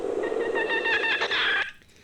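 Disrupted chaffinch song from a bird with its left hypoglossal nerve cut: a continuous, buzzy, smeared warble with indistinct notes, steady and fairly loud, ending abruptly.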